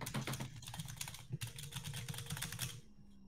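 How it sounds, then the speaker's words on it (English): A computer keyboard is tapped in rapid, constant spamming bursts while an E-rated game is played, the dense clatter continuing steadily for a few seconds before stopping abruptly. "Just the spam of the keyboard."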